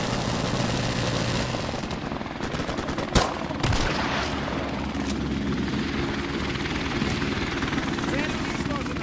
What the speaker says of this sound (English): Friendly helicopter on the way!